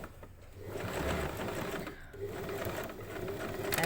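A sewing machine stitches an elasticised cuff in a fast continuous hum, close and steady, briefly pausing near the middle before running on.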